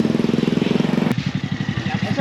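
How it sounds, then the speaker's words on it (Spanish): A motorcycle engine chugs close by on a street in Vientiane, Laos, with a rapid, even putter that shifts character partway through as the bike moves past; no talk over it. "La moto, mira, claro."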